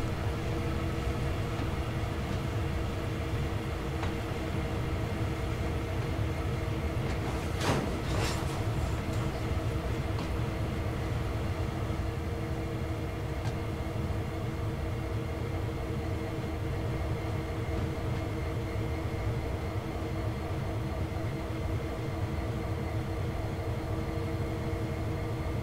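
Steady low locomotive rumble and hum from a train running in Train Sim World 2, continuous and even throughout, with a couple of brief metallic clanks near the start.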